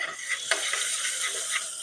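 Ginger, garlic, cumin, asafoetida and curry leaves sizzle in hot ghee for dal khichdi: a quick, close crackle with small pops as they are stirred, lasting under two seconds.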